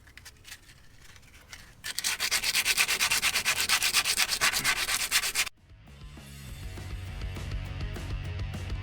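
Steady, loud back-and-forth scrubbing as brake dust and grime are cleaned off the rear brake caliper of a Mercedes W204, a dense rhythmic rubbing that runs for a few seconds and then stops abruptly, followed by quieter handling noise.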